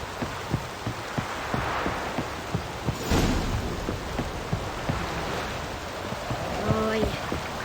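Steady rain pours down in The Witcher 3: Wild Hunt, a dense hiss of a heavy downpour running throughout, with a soft rhythmic thudding beneath and a brief louder gust near the middle.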